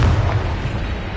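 A Confringo spell explosion in the video game Hogwarts Legacy: one heavy, low boom that rolls off into a dull rumble.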